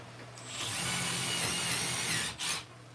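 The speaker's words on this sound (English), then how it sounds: "let's drill the hole real quick" A power drill whines up and bores steadily through wood for about two seconds, briefly dips, then spins down.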